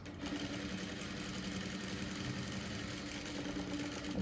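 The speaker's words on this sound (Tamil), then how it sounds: "இப்போ நான் தையல் போடுறேன்." Sewing machine running steadily while stitching a blouse, a continuous close mechanical whir with a fast even hum that holds without pause throughout.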